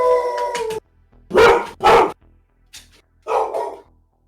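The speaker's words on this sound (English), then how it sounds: "My dogs were so loud just then." Several dogs bark and howl loudly at close range in a few strong bursts, with short quiet gaps between them and no talking over the sound.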